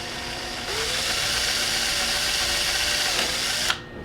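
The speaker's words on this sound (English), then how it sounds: "Now the larger drill bit for the top part of it." A drill with a larger bit spins up and bores through plastic while a mesh honeycomb grille is fitted to a 99-04 Jeep Grand Cherokee. The motor whine is loud and sustained, ending with a sharp stop.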